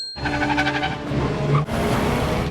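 Car chase from The Avengers film: a roaring engine races close by with tire noise, the pitch shifting as the car speeds, then a sharp cut to a different burst of driving noise, no talk.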